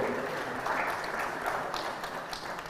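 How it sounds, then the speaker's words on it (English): Audience applause at the Youth and Innovation Expo 2023 in Uganda, a sustained wash of clapping from a crowd, fairly loud and even throughout. "Can we give UNDP Uganda a round of applause?"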